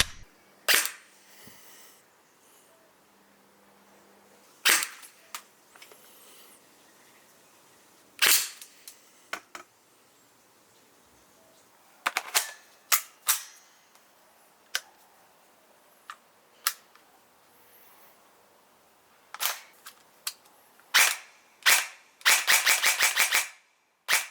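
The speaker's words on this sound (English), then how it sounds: "let's go ahead and see how this guy performs on semi and full automatic" Airsoft gun fired at close range in a shooting test, scattered single sharp semi-automatic shots with long pauses, then a fast rattling full-automatic burst near the end.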